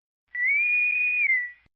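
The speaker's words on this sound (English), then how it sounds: "Then suddenly they heard a long, low whistle from outside." A long, steady whistle holding one pitch for over a second, rising slightly then easing off, sounds alone from outside with nothing else around it.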